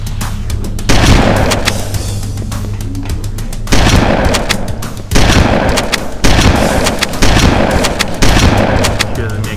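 Heavy booms and blasts from a Halo: Combat Evolved firefight, including a grenade explosion, hit loud and close in a series of separate bursts spaced a second or two apart over constant rumbling noise.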